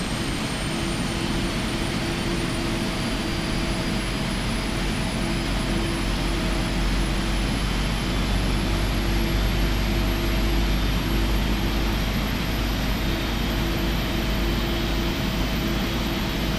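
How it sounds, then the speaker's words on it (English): Boeing 777 jet engine spooling up in the PMDG flight simulator game, a steady loud roar with a whine slowly rising in pitch, continuous throughout with no talk. "Engine 1 is spooling up."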